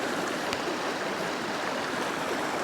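A small creek or brook, locally called a branch, runs right beside a bee yard, giving a steady, close wash of flowing water that carries through the whole stretch with no voices.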